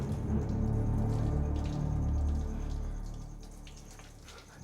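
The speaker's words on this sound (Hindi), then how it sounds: "पानी के बहने की आवाज है।" Water runs steadily from a shower somewhere in a haunted palace, a dense hiss that holds for a few seconds and then slowly fades and thins, with no voices.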